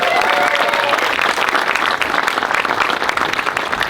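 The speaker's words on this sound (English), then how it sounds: "Can we have one more time, a round of applause for our beautiful couple?" Wedding guests applaud the newly married couple with loud, sustained clapping from a large crowd, dense and continuous throughout.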